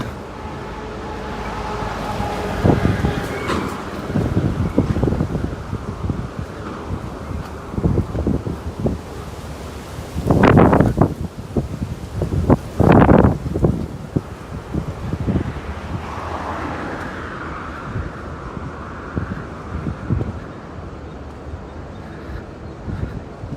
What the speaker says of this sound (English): Biking against the wind.